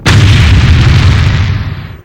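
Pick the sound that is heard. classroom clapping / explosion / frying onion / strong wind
explosion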